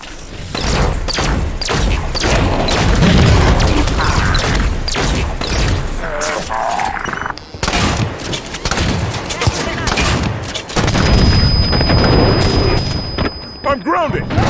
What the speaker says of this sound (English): Mortars inbound!